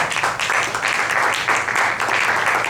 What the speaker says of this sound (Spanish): El aplauso para el poeta.